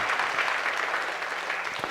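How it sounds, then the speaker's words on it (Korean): A church congregation applauds together in a steady, dense wash of clapping that fills the space from start to finish, with no voices over it. "여러분이 박수로 함께 격려해 주시면 좋겠습니다"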